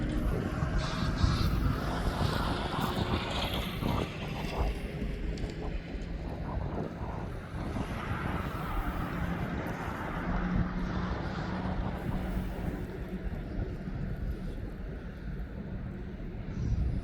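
A DHL cargo airplane passes overhead outdoors, its broad, steady jet roar holding for the whole span with wind buffeting the microphone and no talk.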